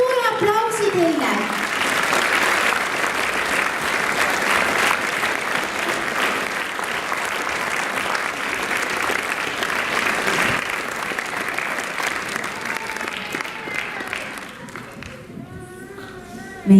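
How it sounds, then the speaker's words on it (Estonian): Audience applauds a children's dance performance by a dance club, with steady dense clapping lasting most of the stretch and fading toward the end, a voice briefly audible at the start. "Suur aplaus teile."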